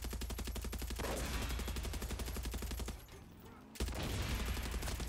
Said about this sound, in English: Yeah, explosions.